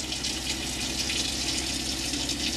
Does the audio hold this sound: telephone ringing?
no